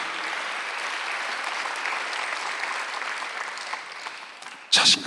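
A church congregation breaks into sustained, dense applause during a Sunday worship service, steady and full for several seconds before a sharp, loud burst near the end.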